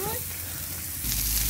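Köfte meatballs fry in a pan over an open hearth in a village garden, giving a brief, steady crackling sizzle that swells slightly near the end, with a faint voice at the start.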